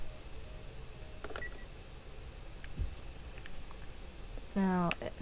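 Rapid run of touch-tone dialing beeps from a telephone in The Last of Us, a short burst near the end over a quiet game ambience with scattered clicks.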